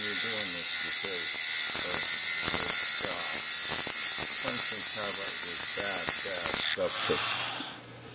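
A tungsten carbide lathe tool is sharpened against a diamond wheel, a steady high grinding whine running throughout while someone talks over it, the wheel dropping off near the end.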